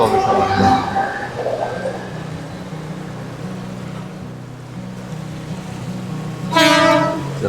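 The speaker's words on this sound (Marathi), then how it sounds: "आपली ट्रेन आलेली आहे" Low rumble of a train rolling in, with a steady droning hum and a brief horn-like tonal blast near the end, plus faint background voices.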